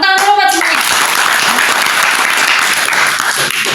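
Loud applause from a school class, steady clapping that fills the whole clip after a brief burst at the start.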